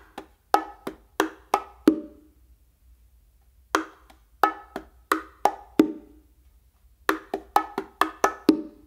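A bongo plays a basic martillo pattern: three close, dry bursts of quick hand strikes, each about five or six hits, separated by short pauses. The bongo is heard alone, near and crisp.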